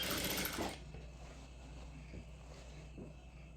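Sewing machine stitching fabric lining along a half-inch seam, a loud burst of running at the start that drops to a quieter steady mechanical hum with faint knocks.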